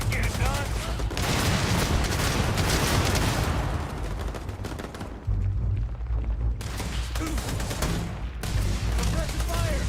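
Sustained bursts of automatic and rifle gunfire with booming impacts in the Starfield game, loud and dense for most of the stretch, easing briefly before resuming, with a voice talking over the shooting.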